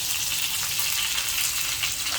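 Curry leaves hit hot oil with spluttered mustard seeds, giving a dense, even crackling sizzle close by with no voices.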